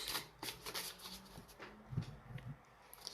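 A deck of oracle cards shuffled by hand during a live card reading, with quick papery riffles and soft flicks in close bursts, plus a few faint background murmurs.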